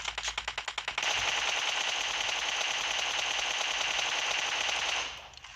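Automatic gunfire in PUBG Mobile opens with a rapid train of about nine distinct shots, then merges into a dense sustained burst before cutting off, loud and close.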